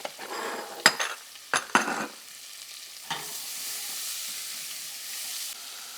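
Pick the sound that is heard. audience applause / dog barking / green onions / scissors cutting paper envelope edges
green onions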